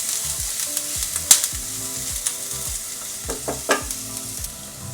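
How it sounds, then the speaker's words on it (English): Garlic and ginger frying in a tablespoon of hot oil, giving a loud close sizzle with repeated scraping stirs and a few sharper clinks of a utensil against the pan. "I'm gonna add my garlic and my ginger first, and just let the hot oil coax out the flavors"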